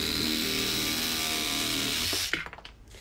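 A DeWalt DCS367B cordless reciprocating saw with an old, worn blade cuts through pine wood in a loud, steady buzzing run that stops abruptly near the end, followed by a few faint clatters.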